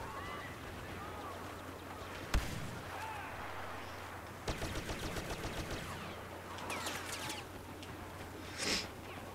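Grenade blast and bursts of gunfire in the Star Wars Battlefront video game, a sharp thump followed by rattling shots and a later pop over a busy battle ambience, with no talk.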